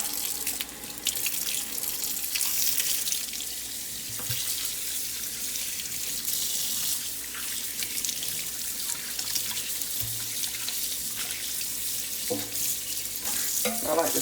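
Raw pig tails get rinsed under a running tap, a steady rushing stream of water splashing into a sink with occasional knocks and shifts as they are handled, no speech.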